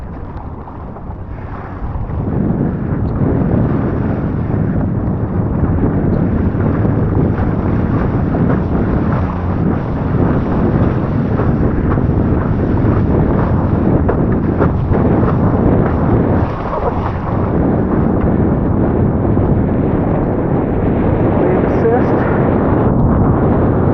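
Gusty wind while wing foiling with a parawing roars as heavy, constant buffeting on the microphone, loud and unbroken for the whole stretch.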